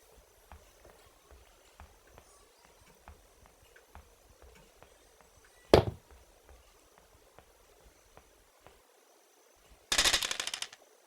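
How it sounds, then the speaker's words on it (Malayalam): Faint ticking and clicks in the video game Granny 2, then one sharp gunshot midway and a short rapid burst of gunfire near the end, loud against quiet. "പോയിട്ട് മറ്റേ ബട്ടണിനെ വെടി വയ്ക്കാം."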